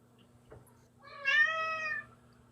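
A pet cat lying nearby lets out a single clear drawn-out meow of nearly a second, close and moderately loud against a quiet room with a faint steady hum and a small knock just before.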